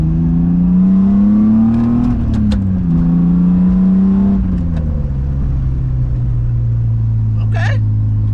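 A modified BMW E36 engine revs hard and close, rising and falling in pitch through quick throttle blips with a loud, rumbling exhaust.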